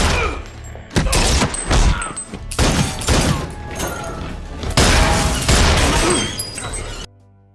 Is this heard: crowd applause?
no